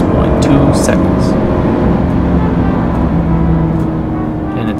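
A 2015 Hyundai Genesis with a 3.8-liter V6 accelerates, its steady, loud engine and road roar filling the cabin throughout.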